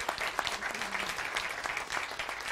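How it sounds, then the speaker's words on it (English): Audience applause at a school board of trustees meeting, a continuous patter of many hands clapping, fairly quiet and even from start to finish. "let's give ourselves a round of applause."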